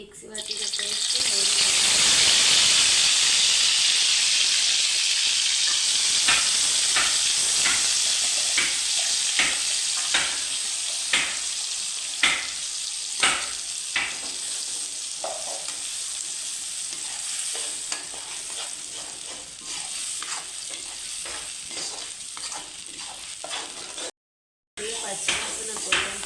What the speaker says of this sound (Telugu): పచ్చివాసన పోయేంత వరకు దీన్ని కొద్దిగా నూనెలో ఫ్రై చేయాలి